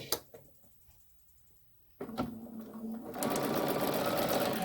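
A BERNINA sewing machine fitted with an edgestitch foot and dual feed starts stitching after a quiet pause, its motor whirring in a steady, close, continuous run that grows louder toward the end.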